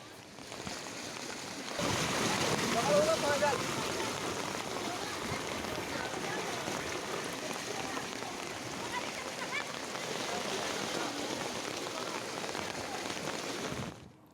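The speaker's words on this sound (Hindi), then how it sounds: "आप देखिए किस तरीके से बागेश्वर में तेज बारिश हुई" Heavy rain pours in Bageshwar, a dense steady roar of drops hitting surfaces that swells in after a quieter start and continues without break, loud and close.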